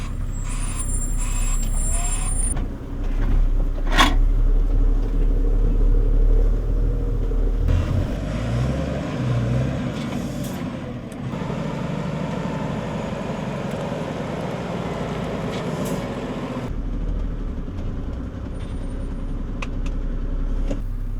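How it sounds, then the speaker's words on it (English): An IVECO Eurocargo 4x4 truck engine runs steadily as the vehicle reverses off-road during a recovery, a loud low diesel rumble with a short air-brake hiss near the start and no talk. "I'll put the vehicle into reverse and I'll take my foot slightly off the brake."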